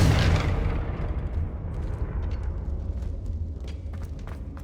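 A Confringo fire spell bursts in Hogwarts Legacy with a loud opening blast that fades into a rumbling, crackling roar. Scattered pops follow over the next few seconds.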